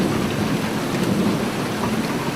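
Steady rain pours down with rumbling thunder throughout a video game thunderstorm, a dense, continuous wash of sound heard alone without any voices.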